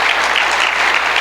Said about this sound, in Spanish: Puedes darle un buen aplauso al Señor